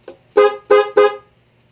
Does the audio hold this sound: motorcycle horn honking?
yes